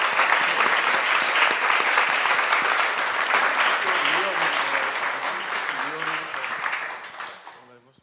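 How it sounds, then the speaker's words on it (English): Audience applause at a luncheon: sustained, dense clapping from a crowd at fairly steady loudness, with a voice faintly audible partway through, tapering off and fading out at the end. "I'd like to give him applause"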